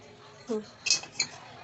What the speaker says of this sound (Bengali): কড়াইটা গরম হয়েছে, আমি এখন এটার উপর বাটিটা দিয়ে দেবো।